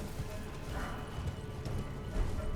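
Horse hooves clip-clopping while riding in the video game Elden Ring, a quiet steady galloping patter under low background noise.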